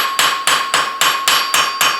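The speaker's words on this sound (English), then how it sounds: "Now the nice thing about using a welder's chipping hammer is now after I do that" A welder's chipping hammer strikes metal while forging a folded leaf, eight sharp, ringing blows at an even, brisk rhythm, loud and close with no talk.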